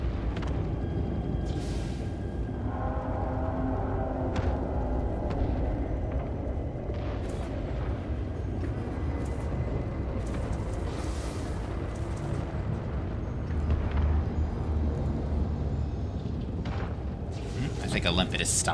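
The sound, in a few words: explosions in a video game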